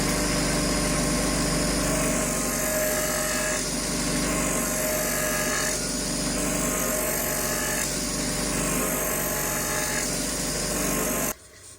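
A bench drill spins an MDF knife sharpening wheel, a steady, loud motor whine with a slight rhythmic wobble from vibration, running continuously before cutting off abruptly at the end.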